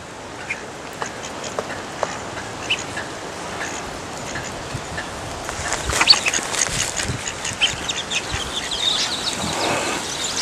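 Ducks quacking in Australian bushland on a hilltop near Adelaide, a dense scattered chorus of calls over steady outdoor ambience, growing louder and busier midway through, with no talking.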